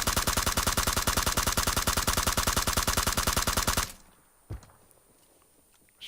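An M416 assault rifle in a video game fires one long sustained automatic burst of rapid, evenly spaced shots for about four seconds, then cuts off, leaving near silence broken by a single faint click.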